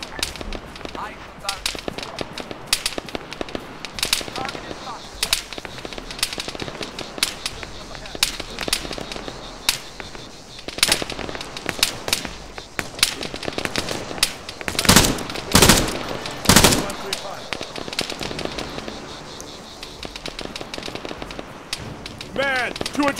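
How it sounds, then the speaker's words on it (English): Dense machine gun fire in the video game ARMA 3, with rapid overlapping bursts running continuously throughout and a few louder close shots, while voices talk over the shooting. "Machine gun, 200 meters, front."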